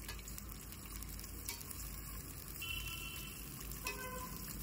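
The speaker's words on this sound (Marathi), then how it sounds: "त्यात हा कांदा तळून घ्यायचा आहे आपल्याला." Sliced onion deep-frying in hot oil on full flame for chicken biryani, a steady loud sizzle that carries on without pause, with an occasional faint scrape of stirring.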